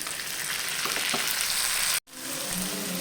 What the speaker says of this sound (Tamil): இப்போ முந்திரியை போட்டுக்கலாம், வதங்கட்டும்.